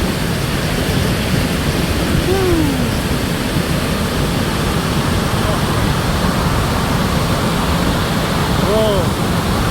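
Victoria Falls on the Zambian side, a constant broadband roar of massive falling water filling the whole stretch, loud and unbroken, with faint birdlike chirps briefly over it.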